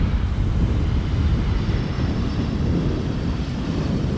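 An airliner arriving on a crosswind runway, a steady loud roar of jet engines with broad rushing noise, close and continuous, no voices.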